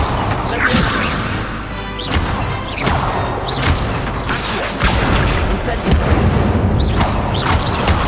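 An Incendio fire spell cast repeatedly in the Hogwarts Legacy video game, bursting out as loud, close whooshing blasts and impacts over a busy, continuous game background, with voices partly mixed in.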